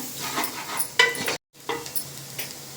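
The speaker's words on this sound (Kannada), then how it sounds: "ಇವಾಗ ಚೆನ್ನಾಗಿ ಮಿಕ್ಸ್ ಮಾಡ್ಕೊಳ್ಳೋಣ ಮಸಾಲ ಎಲ್ಲ ಈರುಳ್ಳಿ ಜೊತೆ" Masala and onions stirred in a frying pan for a chicken dry dish, giving soft scraping and low sizzling with a few spoon clinks, near and quiet, cut by a short gap of silence.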